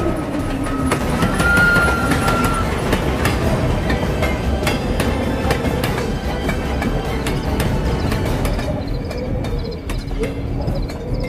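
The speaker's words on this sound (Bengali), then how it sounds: "মাটি কাঁপিয়ে ট্রেনটা আমার পাশ দিয়ে এগিয়ে যেতে থাকলো" Staged as a radio-drama sound effect, a train thunders past in a loud, continuous roar with sharp rhythmic clacks of the wheels, while birds chirp faintly in the background.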